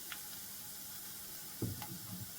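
Chopped onion frying in a pan with a pinch of sugar added, a steady soft sizzle throughout with a brief louder clatter of stirring near the end.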